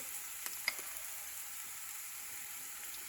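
Soft, steady sizzling of meat and onions frying in a pan, with a few faint clicks of stirring over the hiss.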